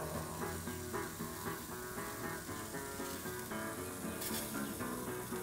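Burgers sizzle on a grill after being flipped, a steady, fairly faint frying hiss that runs throughout with no talking.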